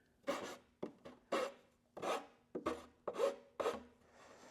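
A bastard file rasping along wooden edge banding in about seven distinct strokes with short gaps between them, close and clear, with no talking.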